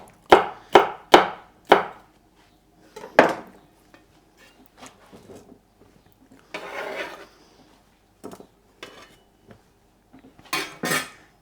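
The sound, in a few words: knife cutting food into strips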